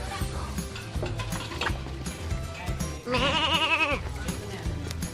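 Hungry sheep bleat in a wavering, quavering call up close as they jostle over food at a farm, with background chatter and clatter around them.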